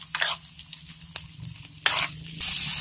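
Chopped onion sizzles and crackles in a hot pan while being stirred, with soft scraping bursts over a steady low hiss, rising to a louder sizzle at the end.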